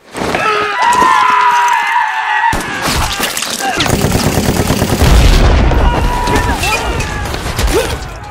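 Battle scene from the World War II film Hacksaw Ridge: loud explosions and gunfire crash in, then sustained dense shooting and blasts rumble continuously, with shouting voices mixed into the chaos.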